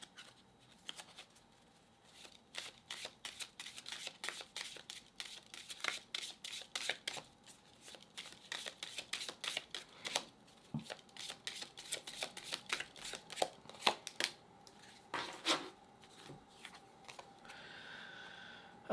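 A deck of Dragon Oracle cards is shuffled by hand in rapid, crisp riffling flutters close up, continuing in uneven bursts with brief pauses and no voices.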